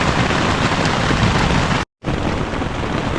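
Heavy rain pounds down during a storm at a motorcycle campsite with an XR150L, a loud, dense, unbroken roar of rain on surfaces that cuts out briefly before resuming just as hard.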